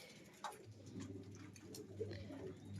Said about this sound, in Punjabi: ਆਦੇ ਕਬੂਤਰ ਬੈਠੇ